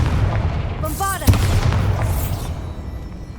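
The Bombarda blasting spell goes off in the Hogwarts Legacy video game, a single booming blast with a bright sparkling magical sweep and rumbling low tail, close and loud, with a voice nearby.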